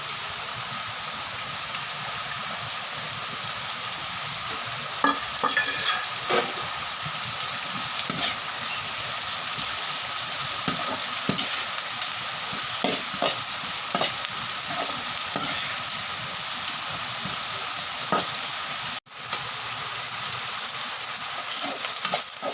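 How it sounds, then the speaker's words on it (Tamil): Cabbage sizzles steadily in a hot pan while a utensil scrapes and stirs it at irregular intervals, close and fairly loud, with no talking. "முட்டைக்கோசு நறுக்கி வச்சுருக்கோம், அதை தட்டி கிண்டவும்"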